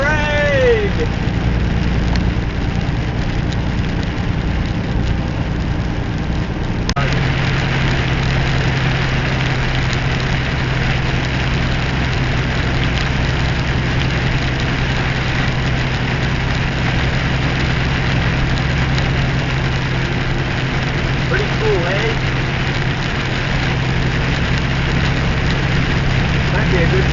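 A car engine drones steadily during a drive on a rough, stormy road, a loud continuous rumble with road and wind noise throughout, and voices talking over it at times.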